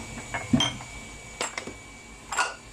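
Ceramic bowls and a ladle clink and knock in a kitchen while sea bass tom yum soup is served, a few scattered bright taps and scrapes spaced out over a quiet background.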